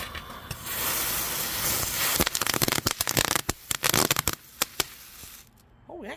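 A TNT consumer firework roars with a steady hissing spray, then breaks into a dense run of sharp crackling pops that thin out to a few scattered snaps before fading, loud and close outdoors.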